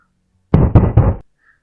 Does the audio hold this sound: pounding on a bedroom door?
yes